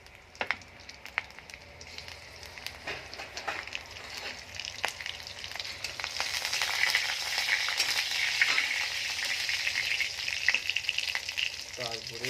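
Chopped green chillies and whole cumin seeds fry in a pan, opening with scattered ticks and clinks that swell into a sustained, close sizzle with crackles and spatters.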